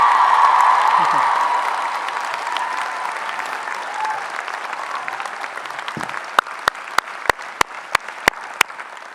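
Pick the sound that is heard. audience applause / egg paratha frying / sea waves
audience applause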